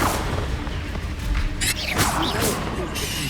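Confringo blasting spell in Hogwarts Legacy, a burst of booming impacts with whooshing swishes and cracking hits in quick succession, loud and close amid combat clutter.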